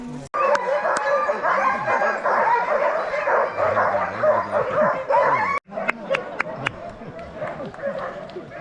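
Sled dogs at Denali National Park bark and yip steadily at a kennel, over outdoor background noise with people talking nearby.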